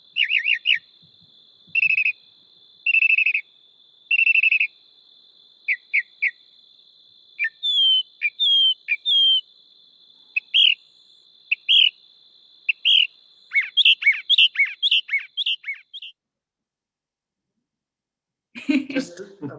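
A mockingbird sings a string of varied repeated chirps and whistles over a steady high insect-like trill, ending with a short rustle after a brief silence.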